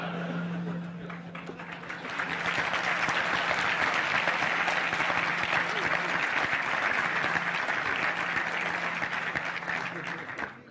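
A large audience at a political speech in Chile breaks into sustained applause, dense clapping swelling after a brief lead-in and holding steady for several seconds before fading, with a voice briefly audible at the start.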